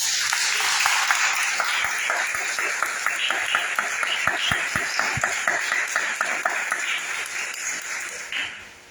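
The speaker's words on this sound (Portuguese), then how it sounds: "Dá uma salva de palmas." A church congregation gives a warm round of applause after a sermon prayer, steady dense clapping from many hands that fills the room and tapers off toward the end.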